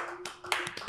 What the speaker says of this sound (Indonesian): Boleh tepuk tangannya dong teman-teman.